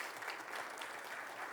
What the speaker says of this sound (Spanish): Un aplauso para Cés, por favor.